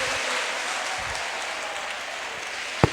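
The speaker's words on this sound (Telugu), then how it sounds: "కొట్టండి, చప్పట్లు" An audience applauds at a career goals and achievement session, a steady wash of clapping running throughout with one sharp louder clap near the end.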